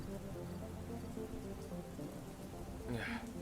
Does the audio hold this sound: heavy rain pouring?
yes